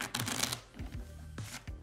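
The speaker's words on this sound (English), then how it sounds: "we're gonna give the cards a quick little shuffle, little mix up" Playing cards being shuffled during a close-up magic trick, a quick riffle burst at the start followed by a few soft, separate snaps and taps of the deck, near and fairly quiet.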